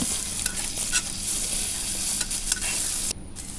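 Ingredients with green chilies frying in a pan give a steady, close sizzle, with stirring scrapes running through it and no voices.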